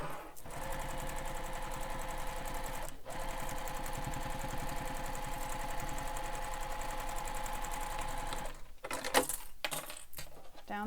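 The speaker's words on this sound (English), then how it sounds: "Now we're going to baste this pocket to the lining main panel on all edges. So sew down the one side." A sewing machine bastes a pocket onto a backpack lining panel, running steadily for about nine seconds with a fast even needle rhythm before stopping and giving way to a few brief handling clatters.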